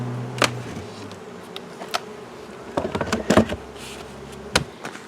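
Bees around a disturbed beehive being worked by a beekeeper make a faint, steady insect hum, broken by sharper buzzes as individual bees pass close, with a few soft taps and knocks from the hive box.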